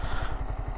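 Yamaha R15M motorcycle engine running through gear changes with a quick shifter, a close, rough, pulsing engine throb over a short stretch, with no talk.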